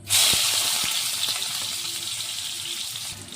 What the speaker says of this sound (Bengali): তারপরে দিয়ে দিব তেলের মধ্যে পেঁয়াজ কুচি